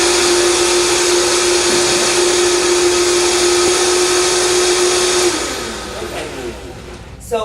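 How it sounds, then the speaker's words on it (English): A countertop blender runs steadily, whirring loudly as it purees a creamy vegan cheese sauce for macaroni, then stops abruptly, leaving quieter room sound and a brief clatter at the end. "And you want to blend, you want to make sure that it's really nice and creamy"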